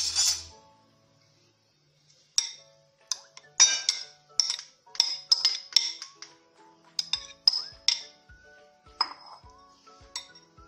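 Chopped chicken tipped into a big bowl with dishes and utensils clinking, a series of light metallic and ceramic taps and scrapes in an irregular rhythm, close and fairly quiet, after a brief pause at the start.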